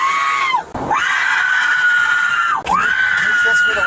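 A woman lets out long, loud, sustained screams while being restrained in a jail setting, two drawn-out screams separated by a short gasp, close to the mic.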